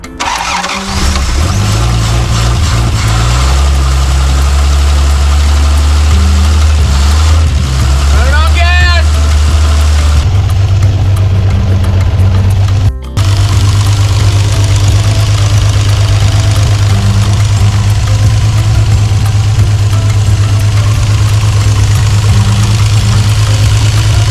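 A stripped junkyard Toyota Land Cruiser FJ60 2F straight-six engine cranks, catches and keeps running, a loud, steady, close idle with a brief stumble midway and no voices over it.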